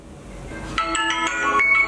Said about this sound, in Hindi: अहीं भैया के फोन है, उठाओ ने।